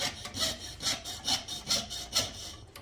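A coping saw pierces out shapes in a large 6-inch copper coin, with steady back-and-forth rasping strokes about twice a second, close up and alone.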